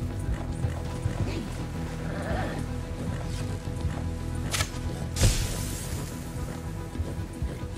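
Horse hooves clopping in Red Dead Online, a steady run of soft clip-clop beats under game ambience and music, with a sharper thump and brief bursts near the end.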